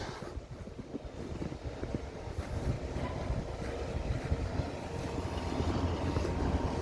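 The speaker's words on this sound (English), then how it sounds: "Looks like I'm coming up on a snow machine." A snow plow truck rumbles past during a January winter walk near Augustana College and Lincoln Park, giving a steady, broad low roar of engine and scraping that builds slightly louder over several seconds, with no talking.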